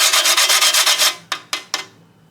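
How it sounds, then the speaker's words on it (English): A piece of nutmeg grated over flour for an old-fashioned Bajan beef soup makes a close, loud, rhythmic rasping of about ten quick strokes, followed by three slower separate scrapes. "I'm going to just grate a little piece of nutmeg in there"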